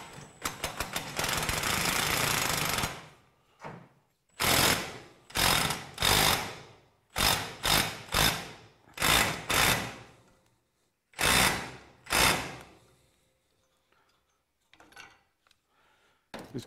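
A homemade spring compressor works on a Ducati ST3 motorcycle fork spring, making repeated loud whirring bursts of a few seconds each, with a long first run, short pauses between bursts, and faint bursts near the end.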